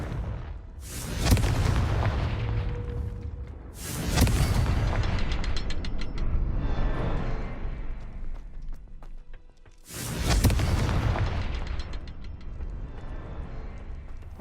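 Hogwarts Legacy Confringo fire spell cast three times, each a sharp booming burst that trails off into a rumbling, crackling tail, loud and evenly spaced with no talking.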